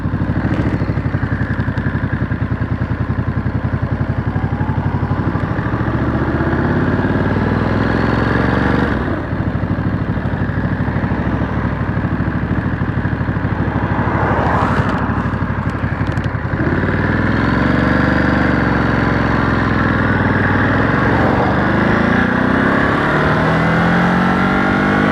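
A 2023 Ducati Monster SP motorcycle engine runs loud and close while riding over gravel, revving up and down in steady rising and falling sweeps, with clatter and a brief throttle-off dip partway through.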